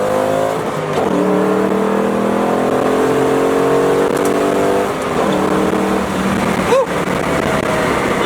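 Ford Mustang GT rolling in first gear near 20 mph, then revving hard under full throttle toward 3,000 RPM, with a loud, steady engine note that climbs, briefly drops at a shift, and climbs again close to the microphone.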